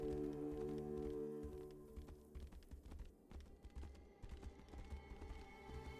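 Horse hooves clip-clop at a steady walking rhythm in a fantasy adventure video game, layered over continuous game music.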